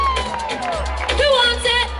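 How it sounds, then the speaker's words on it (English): Pageant audience at a radio picnic's male pageant, producing a brief burst of crowd cheering and whoops with an announcer's voice over the noise. "Keep those applause going!"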